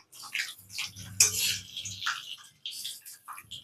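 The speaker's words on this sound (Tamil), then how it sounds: "அப்படியே சட்னியில் கொதி ஊற்றிடலாம்" Hot curry-leaf tempering poured into a garlic chutney gives a short sizzling, hissing burst with a light clatter of a pan, close and fairly quiet.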